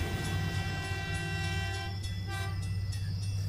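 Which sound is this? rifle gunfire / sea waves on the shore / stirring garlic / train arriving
train arriving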